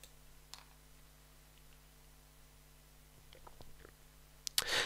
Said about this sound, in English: So you want to click request indexing.